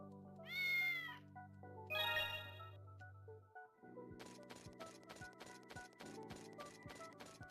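Video game cat in 7th Dragon III Code: VFD giving two distinct high meows early on, followed by a chiming game music jingle, clean and with no talk.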